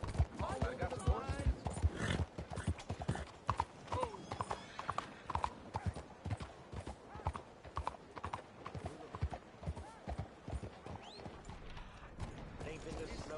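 Horse hooves in a PS4 video game, a fast, steady clip-clop of hoofbeats running throughout, loud and close, with a brief whinny and game voices talking over it.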